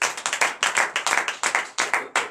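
A church congregation claps together during a Monday morning prayer service in Benin, with loud, quick bursts of hand claps in a steady, rhythmic pattern and no talking.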